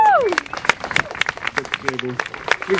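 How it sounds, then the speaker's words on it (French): Wedding reception audience applause with clapping and crowd noise, mixed with a voice speaking over it and some music. "Oui, vous pouvez les applaudir."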